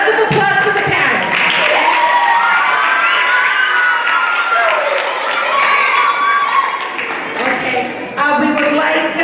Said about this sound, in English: So a round of applause for the parents